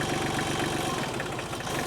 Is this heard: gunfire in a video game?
no